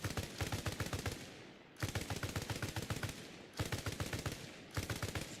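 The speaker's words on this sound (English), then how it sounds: "Have your boy lay down suppressive fire." Squad machine gun suppressive fire in Arma Reforger: four sustained bursts of rapid, evenly spaced shots, each burst trailing into a short echoing decay before the next begins.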